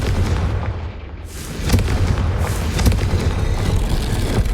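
A Confringo fire spell bursts in the Hogwarts Legacy video game, a loud booming blast over a dense rumbling game soundscape, with further heavy thuds following.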